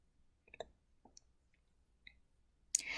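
Computer mouse clicks while saving a project on a computer: a few faint, sparse, isolated clicks in near silence, the last one sharper and followed by a brief burst of noise.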